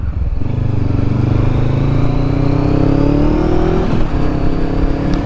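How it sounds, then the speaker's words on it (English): Honda CBR500 500cc motorcycle engine accelerating, its pitch climbing steadily through the gears, loud and close, then easing off briefly before pulling again. "this bike is so much faster, obviously, because it's a 500cc, not a 125"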